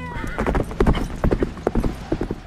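Horses' hooves clip-clop in an uneven, rapid rhythm from a martial arts film set on a desert journey, loud and close with scattered thuds.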